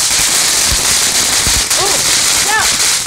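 Fourth of July fireworks go off outdoors, with a few sharp bangs and crackles followed by rising whistles over a constant hiss, and people's voices in the background.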